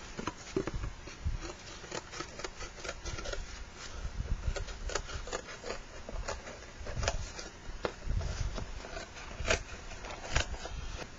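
Scissors cutting a pom pom template shape out of paper, heard as a run of quiet, irregular snips and crinkles with a soft, close patter throughout and no talking.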